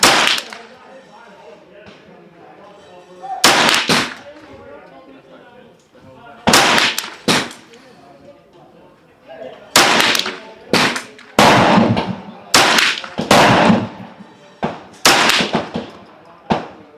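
Sharp, loud .22LR rifle shots fired at a target, each a single crack separated by irregular pauses, and they come faster toward the end.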